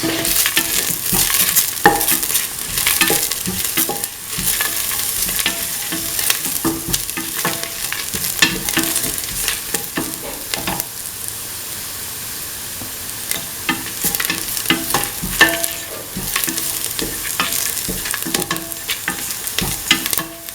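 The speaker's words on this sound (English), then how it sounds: "Put in the red chillies, salt and mix." Scrambled egg, bell pepper, red chillies and salt being stirred and tossed in a hot pan, a steady sizzle with repeated scraping strokes of the spatula running throughout, close and fairly loud.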